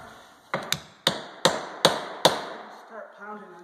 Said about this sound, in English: Start pounding it out the other way.